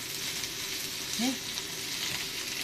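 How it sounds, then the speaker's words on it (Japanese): Green onions fry in a pan with a steady, hissing sizzle, close and continuous, with a brief voice sound partway through. "ネギ焼くだけでも、あら、焼き色ついてきた。"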